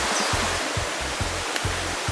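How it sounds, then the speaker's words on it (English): River water flowing in Portland, Jamaica, a steady close rushing wash with a dull low rumble pulsing underneath, no voices. "we're here now at the river"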